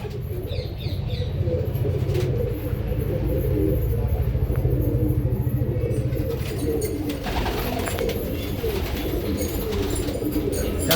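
A white-eyed pigeon kept for breeding cooing in its loft, soft repeated low coos over a steady murmur of other pigeons, with a few wing flutters and rustles nearby.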